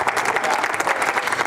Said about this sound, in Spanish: Denle un aplauso al Rey, denle un aplauso al Señor.